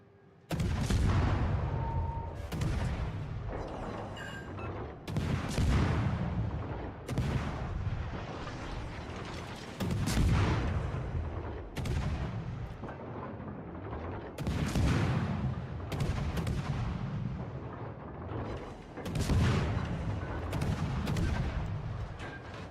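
Naval guns in a warship video game fire in repeated heavy salvos, loud booming blasts with rumbling tails roughly every few seconds throughout, with no pause between volleys.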